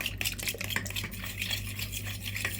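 A spoon briskly stirs a thin baklava batter of milk, oil, eggs, vinegar, salt and baking soda in a bowl, a close, steady run of wet scraping and light clinks against the sides.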